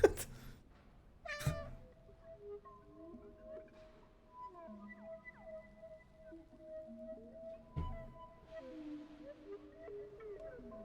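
A cat meows in the video game Stray, a few short calls spread across the stretch, with tonal game music and ambient sounds running underneath throughout.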